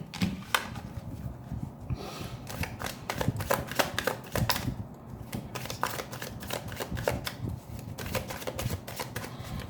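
A deck of tarot cards is shuffled up close, giving a dense stream of quick papery flicks and riffling clicks that runs without pause.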